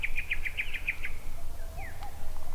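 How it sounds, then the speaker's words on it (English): A bird in a deep green rural property gives a quick series of about eight bright, evenly spaced chirps, then a few softer whistled calls, heard fairly close over a low background hum. "Let's look at the birds."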